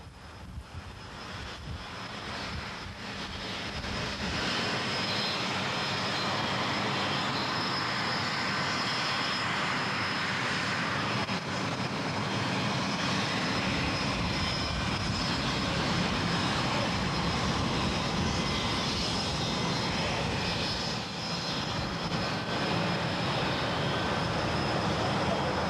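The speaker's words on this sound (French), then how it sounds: "Le remorquage sur 1200 mètres d'un 747 accidenté est une opération très délicate." Damaged Boeing 747-400 being towed along the runway at Tahiti-Faaa airport, a steady loud broadband engine and machinery roar that persists throughout without pause.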